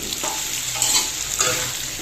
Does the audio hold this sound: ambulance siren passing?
no